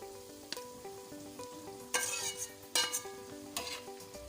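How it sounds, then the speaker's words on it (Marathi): Mashed brinjal being stirred into a sizzling mixture on a tawa, with a steady fry under a few scraping, clinking stirs near the end; a faint tonal background runs throughout. "मस्त परतून झालेले हे मिश्रण आता आपण वांगे कुटून घेतलेले होते ते पण टाकून घेऊ."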